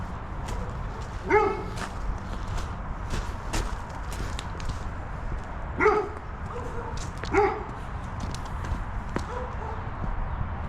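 A dog barks in short separate bursts, three or four sharp woofs spaced several seconds apart, at moderate distance over a low rumbling background at a site where a hackberry tree has fallen across a house.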